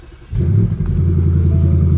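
A 2021 Ford Mustang GT Performance Pack V8 started with a push button: a brief crank, then the engine catches with a loud, deep burble and settles into a steady rumbling idle.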